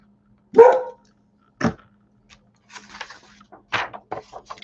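A dog barks indoors in short sharp bursts, two loud barks followed by a cluster of quieter yips and woofs, with brief gaps of near silence between them.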